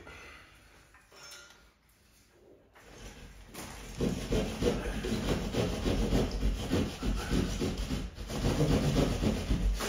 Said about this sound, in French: Voilà, on coupe comme ça. De l'autre côté. Et pareil, cutter.